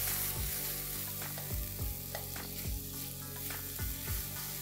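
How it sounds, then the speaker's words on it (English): Crushed ginger, garlic and green chilies fry with onions in a pan, a steady close sizzle broken by a few soft stirring scrapes, no talking. "Let's cook this till the raw flavor of the ginger garlic goes away."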